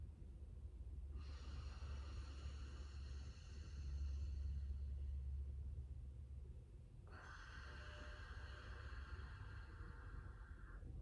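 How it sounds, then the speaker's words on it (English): Ujjayi breathing during a pranayama practice, with two long, steady breath strokes, the second starting with a sharper hiss, up close and alone over a low background rumble. "Couple more here. Strong ujjayi sound."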